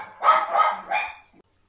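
A dog barks three times close by, loud, rough barks in quick succession in an indoor home setting, with no talking.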